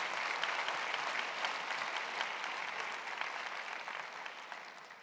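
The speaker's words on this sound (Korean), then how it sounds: "그 하나님께 감사와 영광의 박수를 올려드리기 원합니다." A church congregation applauds at a New Year's Eve worship service, a dense, even wash of clapping that holds steady and fades slightly, with no voices over it.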